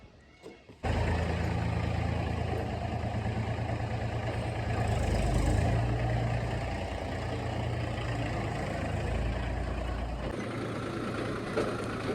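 The engine of a Mahindra 275 tractor starts abruptly and settles into a loud, steady diesel chugging that runs near and continuous, briefly swelling midway before dropping off near the end.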